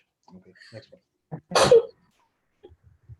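A single loud, abrupt sneeze bursts out between bits of lecture speech, close and sharp, with quiet talk before and after it.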